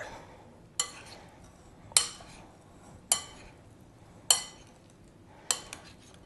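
A utensil stirs fruit salad with mint in a bowl, producing five evenly spaced, crisp clinks about a second apart against a faint, quiet background.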